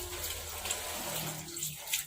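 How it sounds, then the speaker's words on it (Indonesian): Running tap water during hand washing with soap, a continuous moderate splash and trickle close by, fairly quiet and steady with small surges. "Lakukan cuci tangan dengan menggunakan sabun dan air mengalir"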